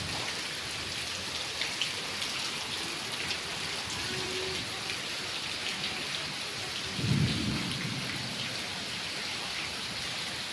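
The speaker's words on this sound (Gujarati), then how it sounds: "ફૂલ વરસાદ છે અમદાવાદમાં, ફૂલ વરસાદ" Heavy monsoon rain pours in a steady roar in Ahmedabad, India, and a deep rumble of thunder rolls through partway in.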